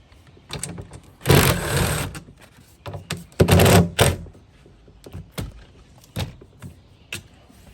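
Three T30 Torx screws are backed out of a BMW 328i side mirror assembly inside the door. Two loud whirring bursts of a power driver are followed by scattered clicks and knocks close by.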